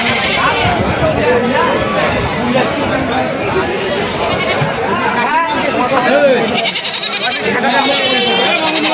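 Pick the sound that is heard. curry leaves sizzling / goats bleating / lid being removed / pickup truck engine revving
goats bleating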